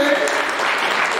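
A church congregation claps together during a worship service, a dense, steady wash of many hands with voices mixed in.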